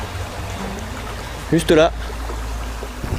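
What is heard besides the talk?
river flowing in a forest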